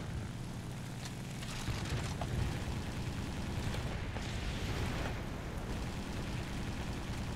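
Aircraft gunfire strafing and destroying a ground base in War Thunder, flown in a Japanese plane: a dense, rumbling roar of engine and bursts of shots with explosions, loud and continuous, no talking.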